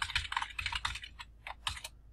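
Rapid, uneven keystrokes on a computer keyboard as Python code is typed, a quick burst of clicks followed by a few sparser taps, close and clear with no talking.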